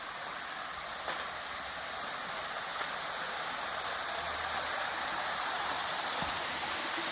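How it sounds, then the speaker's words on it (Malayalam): A waterfall roars in a constant, dense rush of water, steady and loud with no pauses, no voices heard. "വെള്ളം കുത്തുന്ന വെള്ളച്ചാട്ടത്തിൻ്റെ അടുത്ത് വരെ എത്തിത്തുടങ്ങി"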